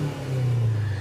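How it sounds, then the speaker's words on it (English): A Honda Civic Si EM1 with an aftermarket exhaust revs its VTEC engine in a short, loud, steady burst of mostly engine and intake drone with a little exhaust note, with no voices. "It is nice to have this this exhaust because you get all motor, a little bit of exhaust, all motor and induction."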